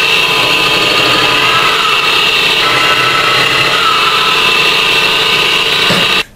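A homemade motor-driven machine for rounding and sanding wooden dowels runs as a loud, steady whirring drone with a high whine, close by, then cuts off abruptly just before the end.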